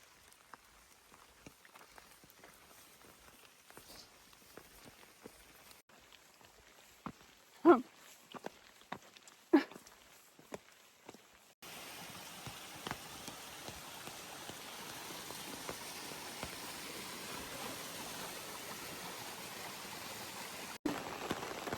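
Heavy rain pouring down on a trail in Shenandoah National Park along the Appalachian Trail, a faint patter with scattered drips that thickens into a steady hiss, with a few louder thumps partway through.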